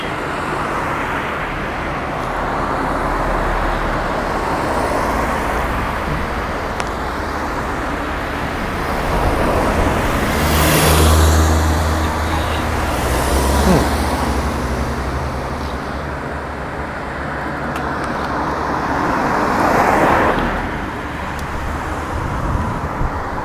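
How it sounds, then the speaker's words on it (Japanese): Continuous roadway noise in Nago, Okinawa, with several cars swishing past nearby, rising and fading one after another over a steady traffic rumble. "車が多くて渡りづらい。"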